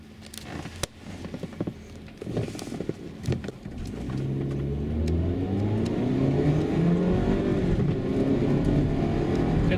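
After several sharp pops and clicks, a Mazda CX-7 2.3 Turbo engine running on petrol rises steadily in pitch as it accelerates, the revving growing smoother and louder toward the end.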